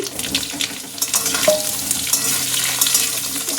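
Cut mango pieces sizzling steadily in a little hot oil with mustard seeds and two dried red chillies, a continuous close frying hiss with faint stirring.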